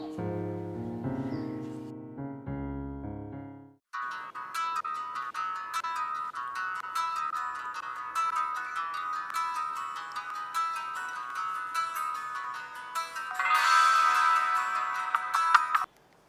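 A phone ringtone plays on repeatedly with a bright, steady melodic tone, preceded by a short burst of low musical notes; the call goes unanswered.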